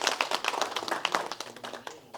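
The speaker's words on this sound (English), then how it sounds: "So please, give us a clap, please." Audience clapping at an APC political support forum, a room of people applauding with sharp, close individual claps that thin out and fade toward the end.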